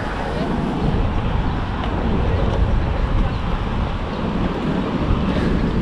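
Heavy wind buffets the microphone despite a windscreen at Little Island Park, New York City, a loud continuous low rumble with gusty swells and no clear voices.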